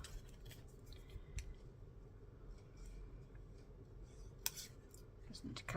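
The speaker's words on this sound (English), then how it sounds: "Need to cut those little bits off there." Scissors snip small bits off a mixed media craft piece, a few quiet, sharp clicks scattered over low room noise, close by and faint.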